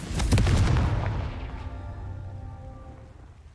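Confringo fire spell cast in Hogwarts Legacy, a single loud booming blast with crackling bursts that fades into a long ringing rumble.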